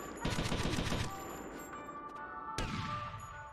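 Rapid automatic gunfire from Grand Theft Auto: Vice City Stories rattles loudly for about a second, then a single sharp shot or impact cracks out later over a ringing game backdrop.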